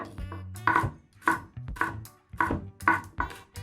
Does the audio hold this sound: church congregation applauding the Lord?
no